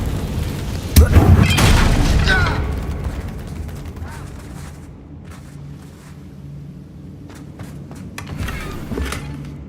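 A Confringo spell blasts a bridge in Hogwarts Legacy: a loud, close booming explosion with a sharp crack up front, then a long rumbling decay and scattered debris clatter, with game sounds continuing after.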